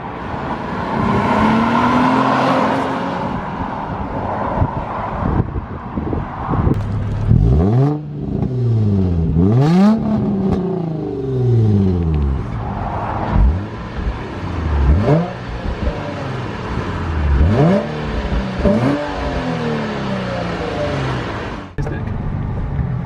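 A modded Nissan 350Z engine revs loudly and repeatedly, rising and falling in sweeping pitch swoops with throttle blips and aggressive roaring bursts over about twenty seconds, close and dominant.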